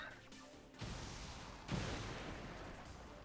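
A standard rocket explodes in XCOM 2 Long War of the Chosen, two heavy booming blasts arriving in quick succession and rumbling on, fairly faint overall.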